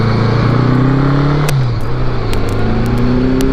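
A 1981 Honda GL1100 motorcycle pulling hard at full throttle in second gear on a cold day, loud and close, its engine drone climbing steadily, dipping briefly at a shift, then rising again under wind noise.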